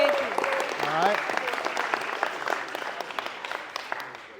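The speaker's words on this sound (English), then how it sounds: "everyone give a round of applause for Nyla." A school audience at Fort Lee High School breaks into sustained applause, loud at first and slowly thinning out, with a few voices and a brief whoop heard over the clapping at the start.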